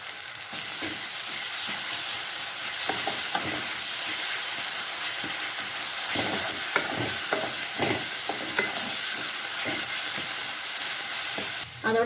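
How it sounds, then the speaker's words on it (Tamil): Shallots and a ground ginger, garlic and green chili paste fry in oil for a Tirunelveli sodhi kuzhambu, giving a steady close sizzle with scraping stir strokes throughout. "எண்ணெயில் வெங்காயத்தை நல்லா வணக்கிக்கலாம். இஞ்சி, பூண்டு, பச்சை மிளகாய் சேர்த்து அரைச்ச விழுது சேர்த்துக்கலாம்."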